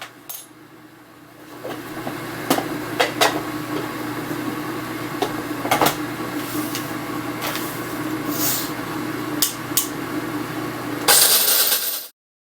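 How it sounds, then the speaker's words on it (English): Burr grinder set to a medium grind crushing whole Guatemalan roast coffee beans, a steady gritty whir with sharp crackles and clicks from the beans, ending abruptly as the grinder stops. "you got to start with whole beans and use a burr grinder. I have mine set to a medium grind."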